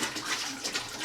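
Water trickles into a Waterdrop King Tank gravity-fed water filter, a soft continuous splashing and bubbling close by for about a second, with no talk over it.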